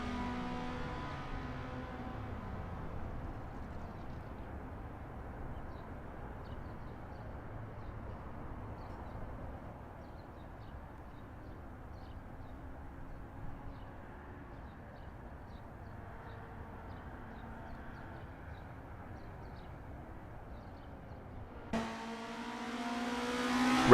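Race cars in a racing video game run at Zandvoort, their engines a faint, distant drone that holds steady for most of the stretch before a sudden louder burst near the end.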